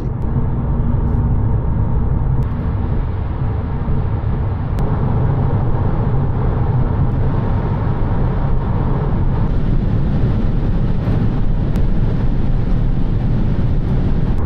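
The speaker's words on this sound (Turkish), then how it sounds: "Genel anlamda lastik ve rüzgar sesi daha baskın." Steady broadband tire roar and wind rush inside an Audi A3 35 TFSI cruising at highway speed, a constant loud wash with no engine note standing out and no talking.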